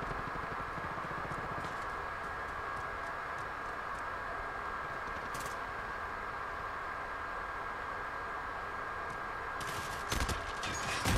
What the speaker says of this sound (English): I get shot from 2 different directions in the end.